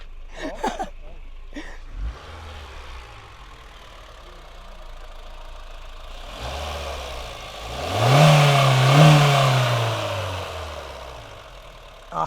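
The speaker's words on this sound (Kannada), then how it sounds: "ರೇವ್ ಮಾಡೋಣ. ರೇವ್ ಮಾಡೋಕ್ಕೆ ಡ್ರೈವರ್ ಆ ಕಡೆ ಕುತ್ಕೊಂಡವ್ರೆ" A 2011 Honda City VTEC engine idles with a low hum after a few sharp knocks, then revs up in one rising surge and winds back down, heard close by.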